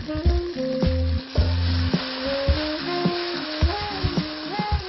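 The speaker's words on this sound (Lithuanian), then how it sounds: "Špinatus keptuvėje apkepame apie 30 sekundžių" Blanched spinach sautéing with garlic in hot olive oil in a frying pan: a continuous sizzle with stirring, under background music.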